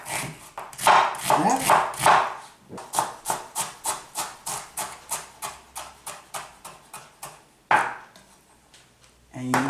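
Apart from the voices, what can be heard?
chopping onion with a knife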